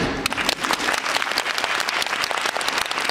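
An audience at a Universal Studios Japan monster rock and roll stage show claps loudly and continuously, a close, crackling burst of many hands with slight surges.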